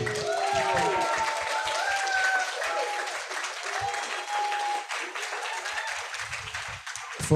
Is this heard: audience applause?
yes